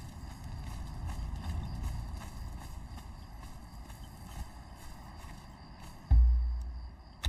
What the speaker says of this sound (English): I get used to using the horse again.